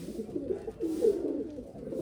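Golden pigeons cooing softly in a loft, with a few low, rounded coos rising and falling in a steady murmur, fairly close and fairly quiet, no voices.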